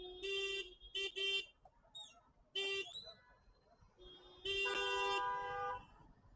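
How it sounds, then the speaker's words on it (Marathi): Road traffic on a route toward Roha, with several car and bike horns honking in short bursts and one longer blast, set against a low rumble of engines. "ते बघा त्याच्यामध्ये झालं ट्रॅफिक."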